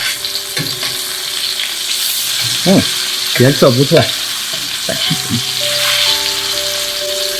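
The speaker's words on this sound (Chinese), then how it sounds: "让这个鸡肉不要粘在一起，全程用中火，别急着给它翻面，让每一面煎大概4分钟左右吧" Chicken pieces pan-frying over medium heat in a large pan, giving a steady close sizzle throughout while a person speaks briefly over it.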